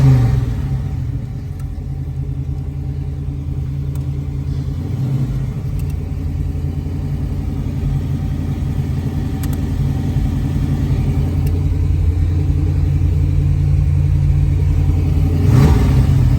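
A 1969 Chevrolet Camaro convertible's engine idles with a deep, throbbing exhaust rumble, loud and close, steady for a long stretch with a faint blip of throttle near the end.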